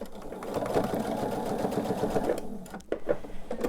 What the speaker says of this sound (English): putting my machine in reverse, sewing off the quilt and then back on